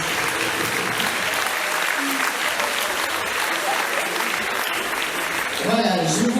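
An audience in a municipal hall in Lens applauds event organisers with sustained, even clapping; near the end a voice begins speaking over the fading applause.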